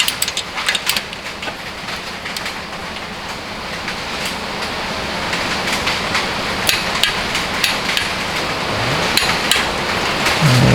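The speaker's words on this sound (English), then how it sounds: "I'm able to hold my hand on the torque wrench now" A torque wrench tightens the clutch bolts on a Ram 9000 series Pro Street dual disc clutch fitted to a Coyote engine: a steady run of sharp metallic clicks and knocks over constant broadband workshop noise.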